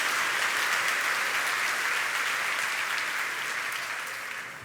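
Sustained applause from a church congregation, steady dense clapping that slowly fades toward the end.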